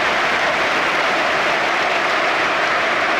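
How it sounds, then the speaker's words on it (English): Football stadium crowd at a Tottenham Hotspur v Liverpool EFL Cup match applauding an injured player carried off on a stretcher; dense, steady clapping from a large crowd that holds constant throughout. "the Liverpool supporters joining in the applause for the stricken Rodrigo Bentancur as he is taken off by stretcher"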